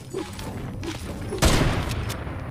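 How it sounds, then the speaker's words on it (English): Gunfire in a battle royale shooter, a burst of shots near 1.5 seconds sounding close and loud over a busy game background, with softer thumps earlier. "I was shooting towards the reboot van area too"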